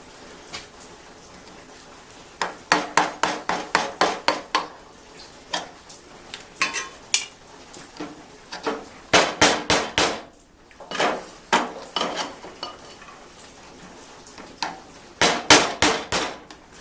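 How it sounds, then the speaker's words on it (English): Repeated sharp metallic hammer strikes in quick bursts, with short pauses between runs, fairly close and loud, while replacing the upper radiator hose on an Allis-Chalmers WD tractor. "Suppose I could use the hammer."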